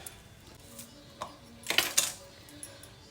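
Knife slicing through half an onion on a board, a few short crisp cuts with clinks of metal, the loudest pair close together near the end, with no talking.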